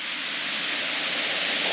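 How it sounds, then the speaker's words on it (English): A small waterfall behind cliffs and large boulders along a rocky hiking trail in Savage Gulf, South Cumberland State Park, gives a steady, even rushing hiss with no breaks or voices. "There's a little waterfall up there."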